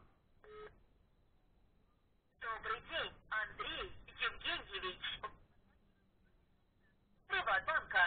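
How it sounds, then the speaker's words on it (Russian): Rapid sequences of electronic dialing tones from a U8 smartwatch play in bursts separated by pauses, fairly close and clear. "Идет набор номера на телефоне."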